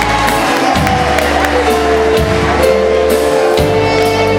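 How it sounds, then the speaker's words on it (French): A carnival crowd at a queen pageant in southern Martinique applauds and cheers loudly and steadily, a dense wash of clapping and shouts with occasional whoops. "Vos applaudissements, s'il vous plaît, pour accueillir Christine."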